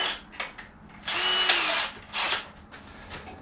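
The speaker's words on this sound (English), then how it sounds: "and I drill that hole." A power drill whirs in several bursts while drilling a plug hole in wood on a cedar strip canoe, with one long steady run in the middle and shorter pulses around it, close by.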